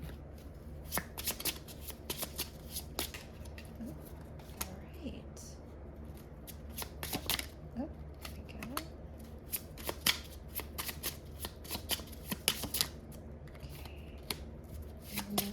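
Tarot cards are shuffled close up in a steady run of riffling, flicking card sounds with sharper snaps scattered throughout, under faint background hum.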